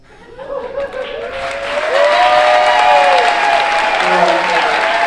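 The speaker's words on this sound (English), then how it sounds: "The school season for Joplin High School gets started with a round of applause." Applause from a gathering at Joplin High School swells from a thin start into full clapping, with a voice talking over it and some scattered chatter and chuckles in the crowd.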